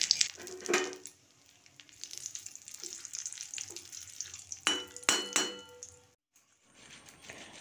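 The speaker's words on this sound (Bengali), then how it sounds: "এরপর 3টা তেজপাতা আর একটা শুকনো লঙ্কা দিয়ে দিলাম ফোড়নে।" Three bay leaves and one dried red chilli hit hot oil in a pan, crackling and sizzling in bursts with a few metallic clinks of a utensil against the pan, then falling quiet near the end.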